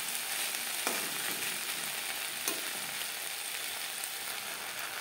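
Spring onions stir-fried in a pan over a medium flame give off a steady, fairly quiet sizzle, broken by two brief scraping clicks of a utensil, with no talking.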